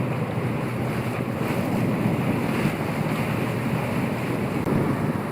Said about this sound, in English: that's a shot of the bow and NORSELA ploughing through Danish waters